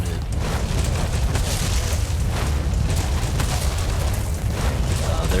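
A Ring of Fire explosion in a video game rumbles as a dense, continuous roar of booming blasts and crackling bursts, loud and sustained throughout with no clear pauses.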